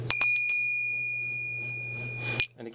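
Rough cast metal tourist bell struck by its clapper, with several quick rings followed by a long sustained tone that fades, then one more sharp strike near the end, loud and close.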